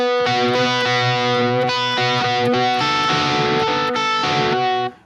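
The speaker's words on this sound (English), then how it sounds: "my phaser is actually this one which I use" Electric guitar run through a phaser effect, strumming sustained distorted chords that change every second or so, bright and loud with a sweeping tone, alone until the final chord cuts off abruptly.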